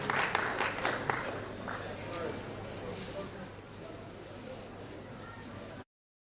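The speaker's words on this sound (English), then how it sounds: "Please, a round of applause for you." An audience at a science and technology lecture applauds Engineer Samuel Kolajo, a burst of clapping that is strongest at the start and then fades into a lower, murmuring crowd before stopping abruptly.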